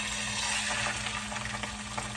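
A salmon fillet sizzles steadily in a hot pan, a soft, even hiss of frying with faint crackles underneath and no talking.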